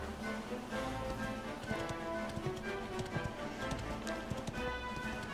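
Horse hooves clattering in Dragon Quest XI, a rapid running clip-clop rhythm over game music, fairly quiet and steady as the horse runs off.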